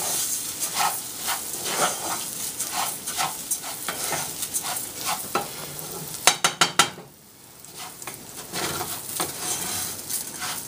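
Rice added to a pan with softened vegetables, frying with a continuous sizzle as a spoon scrapes and stirs in repeated strokes, including a quick run of sharp knocks against the pan, then steady frying resumes.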